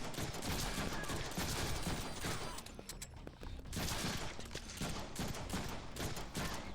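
Sustained video game gunfire, a dense rattling fusillade that runs almost without break, fairly loud and busy throughout with a brief dip in the middle and no speech.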